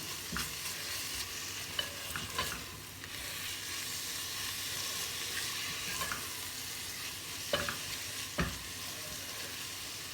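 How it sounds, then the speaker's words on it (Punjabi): Green chillies and onions fry in a pan for a mutton curry, giving a soft, even sizzle. A few light stirring clicks and scrapes cut through now and then. No talking. "ਔਰ ਹਰੀਆਂ ਮਿਰਚਾਂ ਬਸ 2 ਮਿੰਟ ਅਸੀਂ ਇਹਨਾਂ ਨੂੰ ਭੁੰਨਾਂਗੇ ਪਿਆਜ਼ਾਂ ਦੇ ਨਾਲ"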